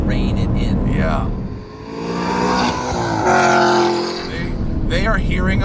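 The 1,000-horsepower Hennessey CT5 Blackwing roars loudly, its engine surging and revving in long swells up close on a street, with brief voices underneath.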